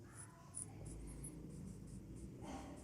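Pen scratching steadily across paper while a maths solution is written out, faint and continuous with no talking.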